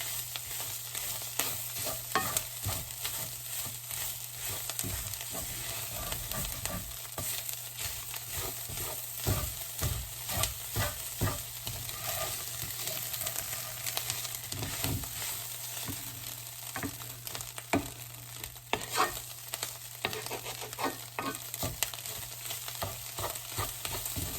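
Food sizzles in a hot pan while a utensil stirs and scrapes through it repeatedly, a busy, continuous rhythm lasting throughout, as shepherd's pie filling is mixed before beef broth and vegetables are added.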